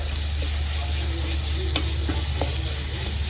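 Beetroot for a pickle stirred in a hot pan, a low continuous sizzle with a few spoon scrapes and taps against the pan, no talking.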